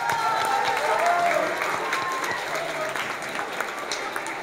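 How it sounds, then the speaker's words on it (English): Steady applause from a school audience for speech contest finalists at McFadden Intermediate, a dense clapping that fills the whole stretch and tapers slightly toward the end, with no talk over it. "Let's give them a good round of applause"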